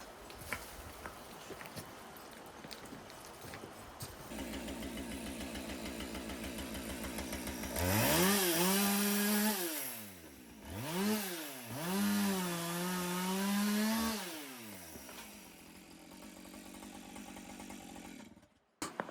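A chainsaw cuts up a fallen tree outdoors in Akita, Japan, idling and then revving hard in repeated rising and falling surges as it bites into the wood, loud and close with no talking.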